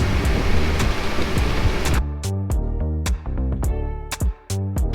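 A camper van drives along a road flooded like a river, with a loud rush of churning water and engine noise for about two seconds, followed by a tonal, music-like passage with sharp hits.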